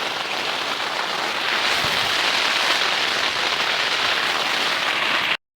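Heavy rain pours steadily in the Salalah mountains, a dense, even hiss of drops on surfaces that holds constant and close throughout before cutting off abruptly near the end.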